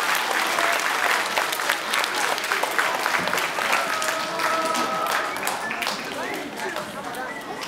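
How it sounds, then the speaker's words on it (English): Sustained audience applause at an event program, a loud, dense wash of clapping from a crowd filling the whole stretch, with faint voices and cheers mixed in. "So give yourselves one more big round of applause."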